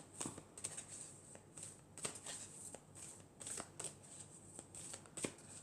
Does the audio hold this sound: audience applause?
no